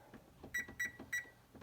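A kitchen oven timer gives three short, evenly spaced beeps while it is being set for bread baking, faint over quiet room noise.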